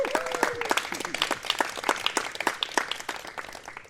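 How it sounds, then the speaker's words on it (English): An outdoor audience at a street art event claps in a lively, steady patter that lasts the whole stretch, with a brief voice and a whistle-like tone near the start. "Give yourselves a round of applause."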